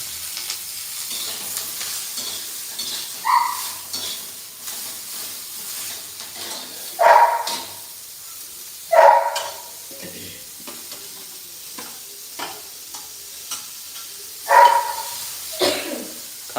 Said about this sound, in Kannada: ಈರುಳ್ಳಿ ಹಾಕಿ ಇವಾಗ ಫ್ರೈ ಮಾಡಬೇಕು ಗ್ಯಾಸ್ ಸ್ಲೋ ಫ್ಲೇಮಲ್ಲಿರಲಿ